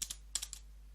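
A short burst of keystrokes on a computer keyboard, about five quiet taps in two quick groups, typing a command in a quiet room.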